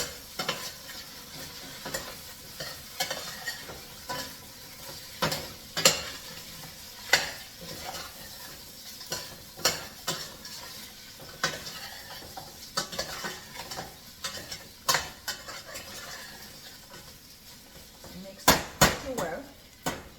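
A spoon stirring onions and goat meat in a pot for pilau, scraping and clanking against the metal in repeated strokes over a soft sizzle, close by, with a voice speaking at times.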